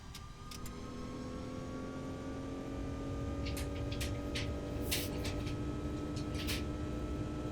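Jet engines on an Airbus A330 in X-Plane 11 spool up for takeoff, a steady rising whine over a low rumble, with occasional faint clicks and beeps from the simulated cockpit on top.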